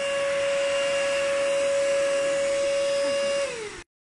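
A Bissell wet floor vacuum cleaner with a water trigger runs with a loud steady motor whine and airy rush, close and alone, then spins down and cuts off near the end.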